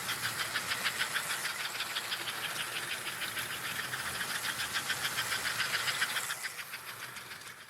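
A Gilbert American Flyer S gauge toy train engine runs on its track under transformer power, giving a steady, close, rhythmic mechanical whir and clatter that eases off near the end.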